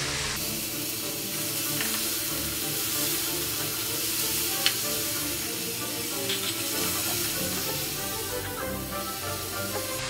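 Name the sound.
tomatoes frying in pan with ginger garlic paste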